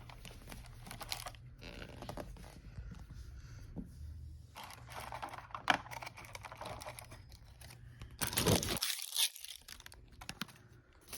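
Tissue paper rustles and crinkles as it is unwrapped from a Gemini Jets 1:400 PIA Airbus A310-300 model box, with soft papery scrapes throughout and a louder burst of crumpling near the end, close and fairly quiet.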